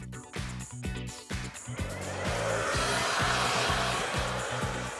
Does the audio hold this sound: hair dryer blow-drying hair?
yes